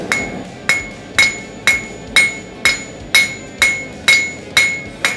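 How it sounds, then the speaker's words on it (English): Ten sharp, ringing hammer blows on metal on an anvil at a steady, even rhythm, each strike loud and close with a bright clang that fades quickly. "this goes on the anvil, and your hammer comes right there"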